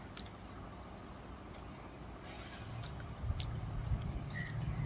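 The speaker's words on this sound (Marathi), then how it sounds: "मी पीच धुवून घेतलेत आणि खाऊन दाखवतो" Someone eats a soft, freshly washed peach, with faint, close chewing and squishy bites. The sound grows a little louder toward the end over a quiet background.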